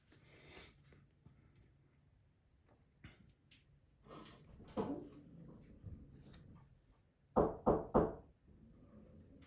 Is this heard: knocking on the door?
yes